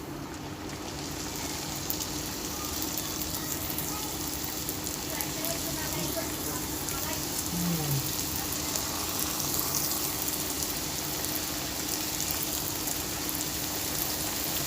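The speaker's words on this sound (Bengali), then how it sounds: "এরপরে আমি এক এক করে নিমকি ভাজতে শুরু করে দেবো।" Nimki frying in hot white oil in a wok over a lowered gas flame, a dense, continuous sizzle and crackle holding steady throughout.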